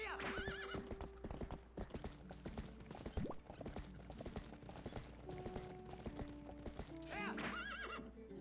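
Horse hooves clip-clop at a quick, steady pace in Zelda: Twilight Princess, with loud whinnies breaking in over a busy layer of game music and effects.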